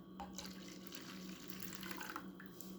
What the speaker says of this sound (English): So it's time to add the hot water, boiling water